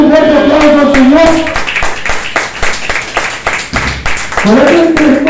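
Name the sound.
congregation applauding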